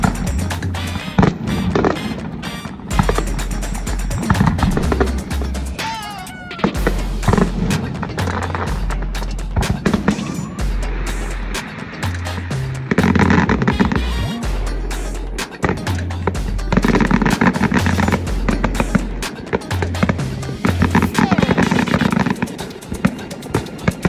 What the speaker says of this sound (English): it looks like these fireworks are going off on the foredeck of all these boats out there